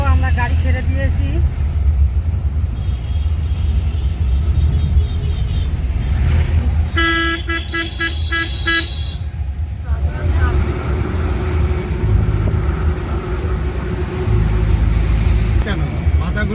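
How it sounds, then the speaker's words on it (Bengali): A car's engine drones steadily from inside the cabin while riding, a continuous low rumble with road noise, and people talk throughout over it. "এই দেখো আমরা গাড়ি ছেড়ে দিয়েছি"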